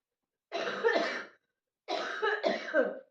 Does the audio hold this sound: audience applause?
no